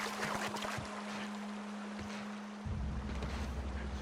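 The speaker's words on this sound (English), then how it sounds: "Water." Water sloshes and washes steadily in the video game The Outer Worlds, with a broad rushing hiss over a low steady hum that shifts partway through.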